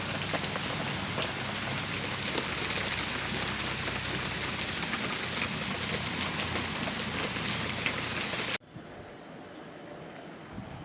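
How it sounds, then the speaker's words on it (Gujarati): Steady rain pours outdoors during a thunderstorm, a dense even hiss of drops on surfaces that continues for several seconds, then cuts off abruptly to near quiet. "તો ગાઈસ બહાર તો વરસાદ પડવા માંડ્યો।"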